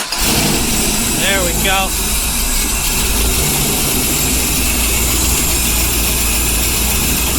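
Turbocharged engine started and running, a loud, steady close roar with turbo whine throughout, and a person speaks briefly over it early on.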